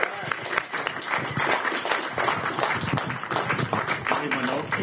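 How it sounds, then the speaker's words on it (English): A crowd at an apartment complex grand opening in Glendale claps in a thick, steady round of applause throughout, moderately loud and close. "Give Ed a great big round of applause for choosing Glendale."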